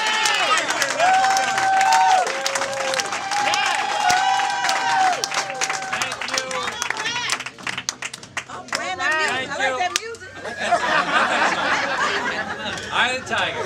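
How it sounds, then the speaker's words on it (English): Crowd at a county executive political rally in Hempstead, Nassau County, clapping and cheering loudly and steadily, with chatter and laughter mixed in and music-like tones running through the din. "Join me in giving a big round of applause"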